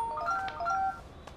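A telephone being dialed gives a quick run of short electronic beep tones, then a fainter tail, heard alone with no talking.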